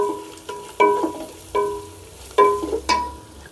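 A spoon scrapes and taps through a curry mixture with turmeric in a pan, giving several distinct clinks and scrapes spaced about half a second apart over a faint sizzle, close and with no voices.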